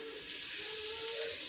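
Cumin seeds sizzling in hot cooking oil as a vegetable dish is started, a steady close hiss that holds evenly for the short stretch with no talk.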